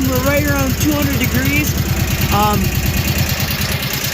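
An ATV engine idles steadily with its radiator fan running, a continuous low mechanical hum and whir filling the whole stretch while someone talks over it.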